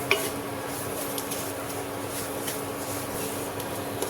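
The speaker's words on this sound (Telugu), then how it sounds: "ఇలా కలుపుతూనే ఉండాలండి," Ghee-rich semolina halwa with fried cashews stirred steadily in a pan, a continuous soft scraping and shuffling with faint sizzle and occasional light clinks of the spoon against the metal.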